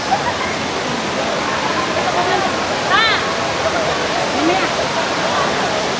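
Taytay Falls, a waterfall in Laguna, roars as a steady broadband wash of falling water, loud and continuous throughout, with faint crowd voices and a brief chirp-like call layered over it.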